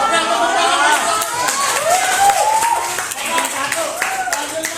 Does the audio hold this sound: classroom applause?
yes